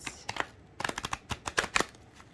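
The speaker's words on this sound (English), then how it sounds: "So I'm going to shuffle these cards" Tarot cards being shuffled in quick riffling bursts, a series of crisp flutters and taps close by, with no voices.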